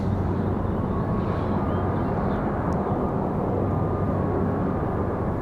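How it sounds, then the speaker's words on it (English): A Boeing 737 MAX airliner at Raleigh-Durham airport gives a steady, loud broadband engine roar with a low rumble that holds constant throughout, with no voices. "The 737 MAX."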